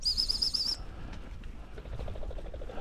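Game birds flushed by beaters on a shoot burst up with a quick flurry of flapping wings at the start, followed by faint rustling and distant fluttering in an open outdoor setting.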